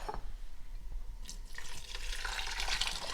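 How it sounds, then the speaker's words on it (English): Clam juice poured into a flour-thickened New England clam chowder mixture in a cooking pot, a soft trickle that swells into a steady, brighter splashing pour toward the end, with no talking. "Now I'm going to add the clam juice."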